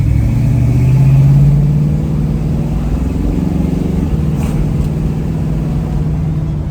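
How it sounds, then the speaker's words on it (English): A Ford Mustang engine runs up close with a steady low rumble, rising briefly as it revs and then settling back to a smooth, even idle. "the Mustang is idling way smoother than it had in the past"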